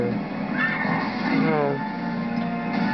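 A horse neighs in an Avatar video game, a wavering whinny rising and falling over roughly a second, set against continuous game sound and a talking voice.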